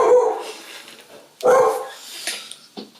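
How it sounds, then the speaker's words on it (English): A pet dog barks indoors nearby, with a loud bark, a second burst of barking, then higher yips and a whimper at the end. "My dog is going crazy."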